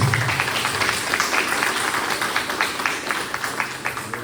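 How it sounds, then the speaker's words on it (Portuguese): Church congregation clapping for the Lord during a Sunday service, loud rhythmic applause with distinct, steady beats throughout, close and lively. "Você pode dar um forte aplauso ao Senhor por isso?"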